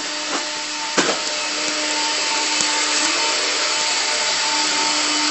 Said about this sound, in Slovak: A maminka práve vysáva.